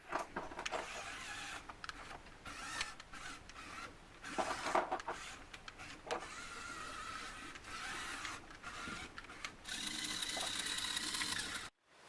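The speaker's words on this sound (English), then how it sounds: "Use the saw, works very well, and we've got drive." Small Lego fighting robot motors whir loudly and continuously, the saw weapon and drive motors buzzing in uneven bursts that rise and fall before cutting off abruptly near the end.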